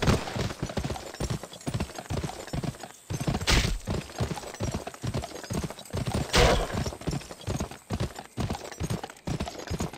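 Horse hooves clip-clopping in the video game GUN, a steady loud rhythm of hoofbeats close up with occasional whinnies and some game noise around them.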